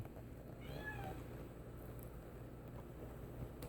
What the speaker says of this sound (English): There is pumpkin meowing.